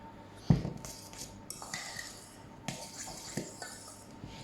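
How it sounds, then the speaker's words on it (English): A fork fluffing cooked couscous in a bowl: a few soft scraping, clinking strokes close by, with a sharper tap near the start and quieter rustling between. "So I'm going to fluff up my couscous with a fork."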